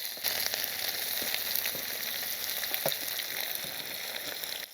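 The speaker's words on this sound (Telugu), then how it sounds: "ఇవి వేగిన తర్వాత ఉల్లిపాయ ముక్కలు వేస్తున్నానండి." Garlic, curry leaves and sliced onions fry in hot oil for a gunta gobi curry, giving a dense, continuous sizzle at steady volume with a few faint stirring knocks, and no voices.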